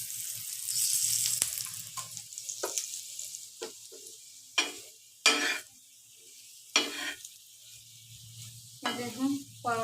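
Paratha frying in white oil gives a faint low sizzle, broken by several loud spatula scrapes and taps that come in irregular bursts, with a brief crackle near the end.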